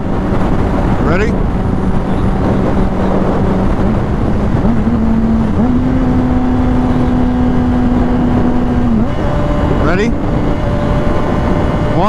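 A Kawasaki Ninja H2 and a Honda CBR 600RR accelerate along a straightaway, engines rising through rising and shifting pitched whines with gear changes, heard loud and close under heavy wind noise rushing past the microphone.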